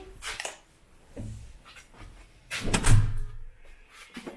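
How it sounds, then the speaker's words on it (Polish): A car door shuts with a solid thump near the middle of the scene, framed by a few quieter bumps and handling noises before and after, heard close with no talk over it. "Mama zamknie drzwi."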